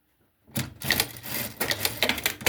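A sewing machine stitches the ends of a nursing pillow together in a rapid, uneven mechanical clatter that starts after a short silence and runs on close and fairly loud.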